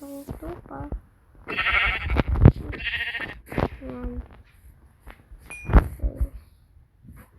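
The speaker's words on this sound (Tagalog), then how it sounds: "Patayin mo natin itong tupa." A sheep bleats several times in short wavering calls, close and loud, with a person speaking briefly between the cries.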